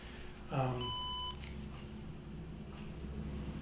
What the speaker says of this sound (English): You're beeping.